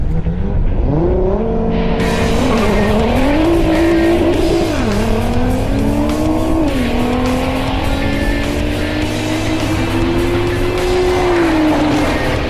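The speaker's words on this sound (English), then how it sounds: "Now it's time for a drag race, head-to-head style." A Cobb-tuned Nissan GT-R and a Techart GT Street race each other head to head in a straight-line drag, engines roaring loudly with rising pitch through several gear shifts and tyre squeal throughout.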